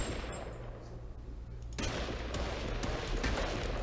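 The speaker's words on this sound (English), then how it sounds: "I guess you should try and rocket jump with the rocket launcher." Rocket launcher fired in a video game, sounding as a sudden loud broadband blast near 1.8 s that gives way to a sustained roaring rumble, with fainter gunfire-like crackle before it.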